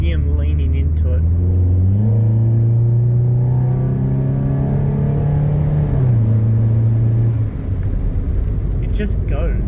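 A Nissan Pulsar N14 with intake modifications heard from inside while driving, a steady droning engine note that rises through a gear, drops and pulls again, close and loud, with a voice talking over it.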